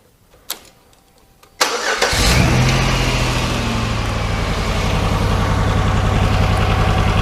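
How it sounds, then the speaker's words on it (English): A car engine cranks and catches after a couple of faint clicks, then settles into a loud, steady idle close by, with a slight rhythmic unevenness that fits a possible misfire. "So I'm going to start the engine."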